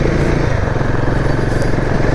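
Motorcycle engine climbing an off-road incline on a mountain trail, a loud, steady, close drone with continuous rumble and no pauses.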